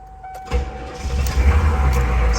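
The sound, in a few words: 6.5L turbo diesel engine starting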